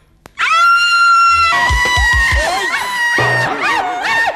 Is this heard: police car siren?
no